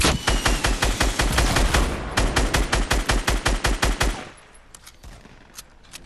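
Rapid automatic gunfire in Fortnite, a long run of evenly spaced loud shots lasting about four seconds, then a stop followed by a few faint, scattered distant pops.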